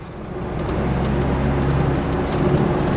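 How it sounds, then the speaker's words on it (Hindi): A Ford Figo diesel engine revs hard in third gear, a steady loud drone with rumbling low end that holds for about three seconds, no voices over it. "थर्ड गियर पे अगर मैं इसको रेव करता हूँ ना, गाड़ी का पिकअप देखिए एकदम मस्त तेज से भागती है"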